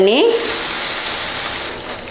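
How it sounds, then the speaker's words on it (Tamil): Water sizzles and hisses in a hot pan with a steady bubbling boil while making bread chilli, after a brief vocal sound at the start. "தண்ணி ஊற்றி நல்லா கொதிக்க வச்சுருக்குங்க"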